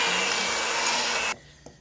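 Electric mixer creaming butter for oatmeal cookies, a steady whirring drone close by that cuts off abruptly near the end, followed by a couple of small clinks.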